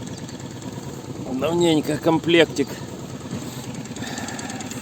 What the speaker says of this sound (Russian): Сегодня продолжаем обкатку двигателя.